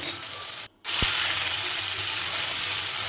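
Vegetables with soybean chunks, salt, turmeric, chilli, cumin, pepper and garam masala fry in a pan with a steady bright sizzle that drops out briefly, then returns loud and continuous.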